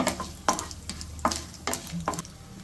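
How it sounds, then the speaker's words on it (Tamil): Cashew nuts frying in hot oil in a pan for vermicelli upma, with a soft sizzle under repeated stirring scrapes, fairly close and quiet. "ஒரு 7 முந்திரி பருப்பு போட்டுக்கலாம்."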